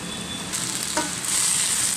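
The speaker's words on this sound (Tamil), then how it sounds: "கீரை வதங்கிட்டுருக்குங்க" Spinach sautéing in a pan makes a brief, close sizzle that swells slightly toward the end, with no talking.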